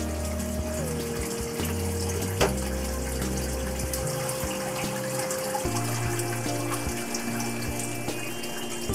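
Steady running water pours continuously during a piranha aquarium water change, like a tap or pump filling a tank, with a low mechanical hum underneath and no voices.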